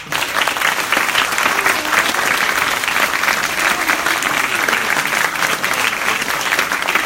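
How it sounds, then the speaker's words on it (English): Sustained audience applause fills a room at a 2017 demo day, a dense, even wash of many hands clapping at steady loudness throughout, with no voices standing out. "let's give them a round of applause"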